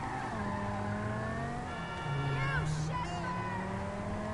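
A car in a PS4 racing video game lands and skids, its engine droning steadily with a brief tire squeal and scrape in the middle, under faint background game noise.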